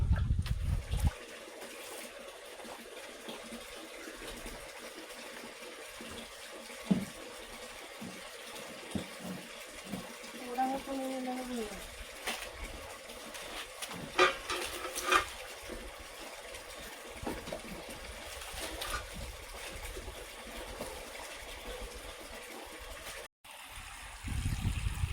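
Water poured into a vessel in a village kitchen, just enough to cover what is inside, gives a faint, steady trickling splash that runs through most of the stretch with light clatter.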